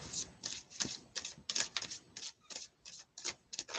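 A deck of Disney Villains tarot cards is shuffled in quick, crisp riffling bursts, close and fairly quiet, repeating in an uneven rhythm.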